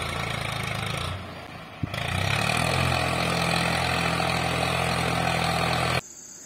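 A tractor engine idles with a low, steady rumble and chugging, which steps up to a louder, throatier running after a brief revving change, then cuts off.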